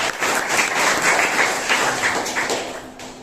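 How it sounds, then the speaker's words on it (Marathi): A crowd at a school event launching digital education claps for the volunteers, a full burst of many hands close by with a few thumps mixed in, easing slightly toward the end. "तर त्यांच्यासाठी पण एकदा जोरदार टाळ्या व्हायला पाहिजे"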